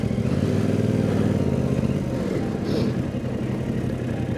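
A Yamaha YZF-R7 motorcycle engine running as it pulls away in city traffic, a steady close rumble that eases slightly toward the end, no talking.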